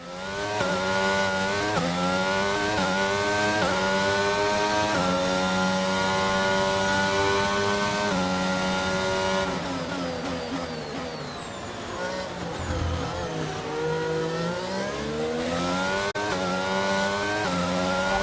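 F1 22 video game race at Monaco: a loud, continuous whine of Formula 1 engines, with gear changes and rising and falling pitch sweeps as several cars race past one another, no talk.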